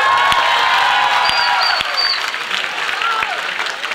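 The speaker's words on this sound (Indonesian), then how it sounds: "Tepuk tangan lagi dong." Applause and cheering from a crowd at the closing Mass of a children's jamboree, loud at first with scattered sharp claps and high whoops, tapering somewhat toward the end.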